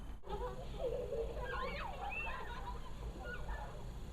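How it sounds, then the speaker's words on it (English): Shrill, wavering cries of seagulls attacking a party scream and swoop over a steady rumbling background, several calls overlapping in an agitated burst. "seagulls attack the party"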